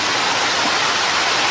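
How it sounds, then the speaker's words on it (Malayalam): Heavy rain falls in a steady, loud, broadband wash, close and unbroken from start to finish, with no voices over it. "നല്ല മഴയാണ്."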